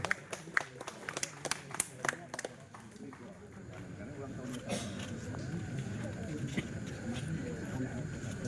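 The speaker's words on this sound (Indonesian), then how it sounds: "Tepuk tangan para hadirin." Scattered hand claps from an audience at a formal ceremony, a few sharp claps at first then softening into faint, diffuse applause under background murmur.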